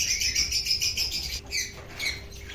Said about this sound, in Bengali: ওই ঘর থেকে কিন্তু দেখুন অঙ্কুশ পায়রাগুলোকে এক এক করে নিয়ে চলে আসছে